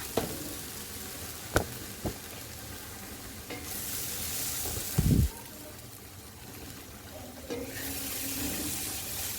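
Spice mix for pineapple pickle tipped into a small nonstick pan and stirred, with a steady low fry, a few scraping clinks and a brief louder clatter midway, no talk.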